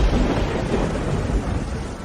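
A deep, rolling rumble of thunder fills the clip, loud and sustained, with a faint rain-like hiss underneath.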